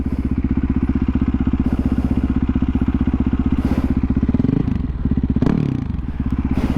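A newer Yamaha dirt bike engine runs close and loud with a fast, steady thumping pulse, shifting pitch briefly partway through amid some clatter and scraping.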